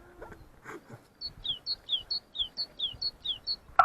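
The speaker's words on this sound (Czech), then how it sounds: "ptáci tady zpívají, jak je krásně" A small bird sings a rapid series of about ten high, sweet chirping notes in a steady rhythm, close by, after a few faint rustles.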